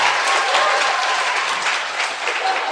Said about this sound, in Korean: 큰일하고 돌아오신 의원님께 박수 부탁드립니다